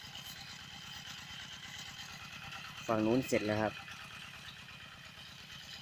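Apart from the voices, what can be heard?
walk-behind tractor engine leveling soil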